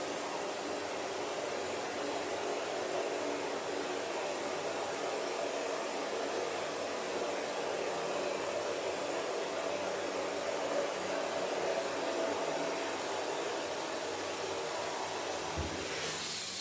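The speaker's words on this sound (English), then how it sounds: "Mostly for the blow dryer, but this gets a little loud too." A blow dryer runs continuously during a professional groom of a Havanese dog, a loud, steady whooshing roar that stays constant throughout, with no talking.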